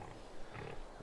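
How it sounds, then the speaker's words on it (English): Pigs on a farm in the video game Farming Simulator 22 give low, steady grunting over a second of continuous farmyard noise, with no talk. "We're here by the pigs."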